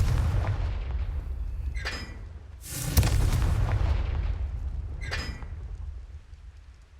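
Confringo spell explosions in the video game Hogwarts Legacy: loud booming blasts over a constant rumbling game background, with a sharp burst near the middle and lighter cracks before and after.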